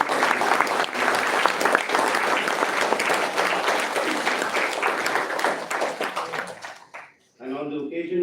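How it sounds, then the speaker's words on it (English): Sustained audience applause fills a lecture hall after a memorial lecture, dense and steady clapping for about seven seconds before fading out, followed by a voice beginning to speak. "So you really deserve a huge round of applause."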